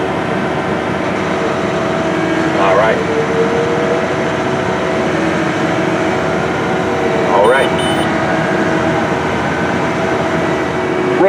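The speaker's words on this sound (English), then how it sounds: "We're up in the cab of a Case IH 470 CVX QUADTRAC, and this big tractor is on auto guidance planting corn" Steady broadband rumble inside the cab of a big Case IH 470 CVX Quadtrac tractor planting corn on auto guidance, a constant drone throughout with a person speaking briefly.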